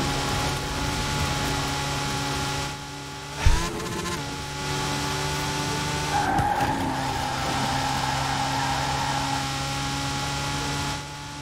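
A LEGO Ferrari F40 races in Forza Horizon 4, its engine a steady drone through most of the run with a sharp tyre skid or impact near the middle and a brief squeal later, no talking.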